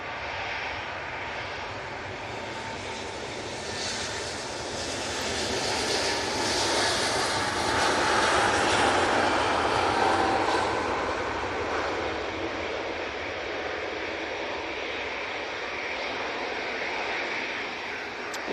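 A Lufthansa City Airbus A320neo departs Manchester Airport for Munich, its jet engine roar swelling louder near the middle and then easing into a steady, sustained rumble, with no voices.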